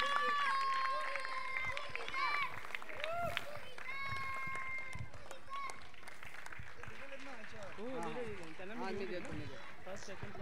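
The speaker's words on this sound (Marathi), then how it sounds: "जोरदार टाळ्या झाल्या पाहिजेत" Crowd applause at a monsoon football tournament prize ceremony, a dense steady patter of clapping running through the whole stretch, mixed with music and voices over a PA and someone talking.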